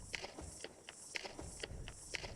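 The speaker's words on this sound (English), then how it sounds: "I recorded footsteps on the stones with my phone" Footsteps on stones, recorded on a phone, are chopped into a looping snare-style beat: short, crisp, evenly spaced hits repeating in a tight rhythm, quiet and close with no voices.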